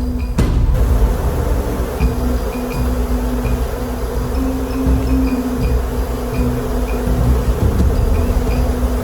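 A honeybee swarm migrating into a hive box fills the air with a loud, steady, dense buzz, close and continuous throughout with no talking.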